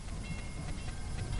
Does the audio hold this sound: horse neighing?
no